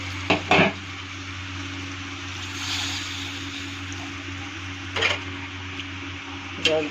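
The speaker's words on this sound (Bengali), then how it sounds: "আমি এর মধ্যে জল দিয়ে দিব।" Water poured into sizzling potato masala in a pan, followed by a few sharp scrapes of a spoon stirring against the pot over a steady simmering hiss, with a low hum underneath.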